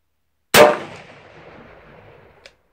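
Single sharp rifle shot from an M39 Mosin Nagant at a shooting range, a loud close crack with a long fading echo and a faint click near the end.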